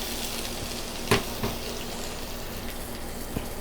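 Peppers frying in sesame oil in a hot pan, a steady broadband sizzle with a couple of brief clinks from stirring, close and even, no one talking.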